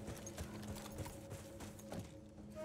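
Horse hooves clip-clop in a steady walking rhythm in the video game Battlefield 1, over a low droning background, fairly close, with no talking.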